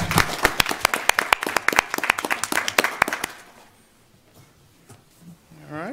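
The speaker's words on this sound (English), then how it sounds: "Just want to give one final round of applause for everybody that came out today." At a city board of education business meeting, a roomful of people claps in a lively burst of distinct hand claps for about three seconds, then it fades to near silence with a voice starting at the end.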